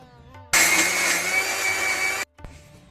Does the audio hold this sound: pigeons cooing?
no